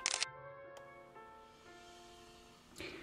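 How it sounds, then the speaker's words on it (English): A camera shutter fires with a short, sharp mechanical click while a model monster is photographed, followed by a quiet hum and a few faint clicks. "And then you want to click your shutter."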